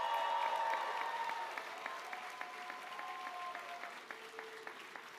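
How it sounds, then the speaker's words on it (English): A graduation commencement audience applauds the graduates' families, friends and loved ones with a sustained round of clapping that is moderately distant and thins out slowly toward the end. "Give them a big round of applause."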